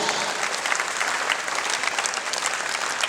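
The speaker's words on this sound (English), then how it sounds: "Let's give our parish and our youth especially a warm applause" Audience applause at a parish youth rally, a dense, steady wash of clapping from a large crowd that holds at an even level throughout with no voices breaking through.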